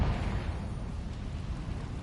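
The Confringo explosion spell goes off in a video game as a low, rumbling burst that starts sharply and then rolls on as a dull roar for about two seconds.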